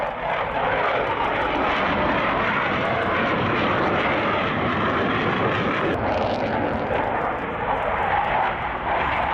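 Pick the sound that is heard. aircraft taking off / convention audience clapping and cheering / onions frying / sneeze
aircraft taking off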